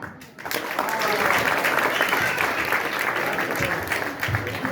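An audience at a Ganesh festival gathering bursts into loud, sustained clapping after a theatrical monologue, a dense crackle that swells quickly and holds steady, with a little talk mixed in.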